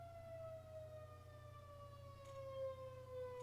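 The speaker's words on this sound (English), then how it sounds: "Tornado siren test finally goes off." A tornado siren test sounding far off, a faint steady wail slowly gliding down in pitch under a low indoor hum.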